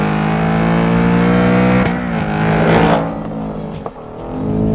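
A 2024 Ford Mustang GT V8 revs hard close by, its rich harmonic roar climbing, then dropping off as the throttle lifts, with a short blip before the revs build again.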